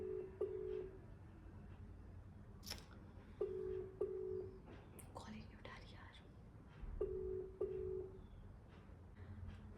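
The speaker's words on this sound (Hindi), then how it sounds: "इसके लिए मैं मम्मी को वीडियो कॉल करूंगी" An outgoing video call to a phone rings unanswered, a repeated electronic ringback pattern of short paired tones separated by pauses, heard three times under soft whispering and faint room noise.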